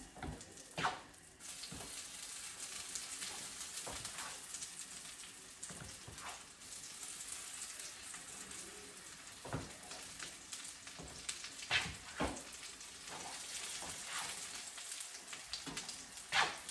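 Veggie buns pan frying in about a quarter cup of oil give off a steady, quiet sizzle with scattered crackles and pops throughout, and nobody speaks over it.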